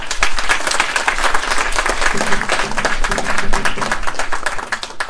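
An audience at the inauguration of a new academy breaks into loud, dense applause, many hands clapping close and steadily for about five seconds before easing slightly at the end.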